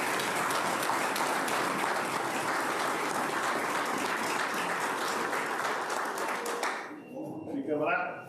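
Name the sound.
round of applause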